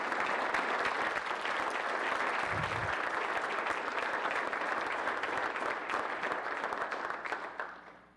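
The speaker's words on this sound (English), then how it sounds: "if you could stand so we can give you a round of applause of great thanks" Audience applauding sponsors at an event, a dense, steady wash of clapping that stays loud throughout and fades out at the very end.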